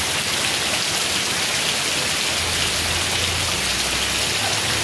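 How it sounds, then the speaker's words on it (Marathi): Heavy first monsoon rain pours in a Konkan village, a dense, even hiss of rain on surfaces that holds steady throughout, with no voices. "बघू शकता तुम्ही पाऊस भरपूरच दिलेला बघा"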